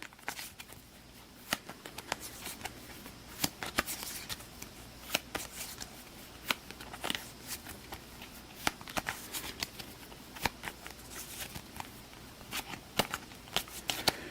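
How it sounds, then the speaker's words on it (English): A small deck of turn order cards for the Astro Knights Eternity board game is shuffled by hand, with quick, crisp riffling taps and light card snaps continuing steadily at close range. "Cthulhu's calling for a shuffle on the turn order deck because it's empty."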